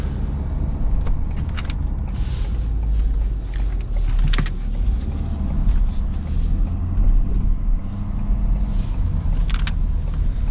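A 2026 Ford F-350 Super Duty STX with the high-output Power Stroke diesel and an 8-foot bed, driving with a steady low rumble and road noise throughout, with a few brief higher whooshes passing over it.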